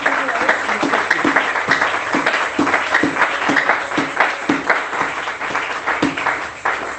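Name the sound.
congregation applauding and cheering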